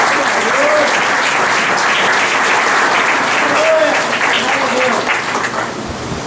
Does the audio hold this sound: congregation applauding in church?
yes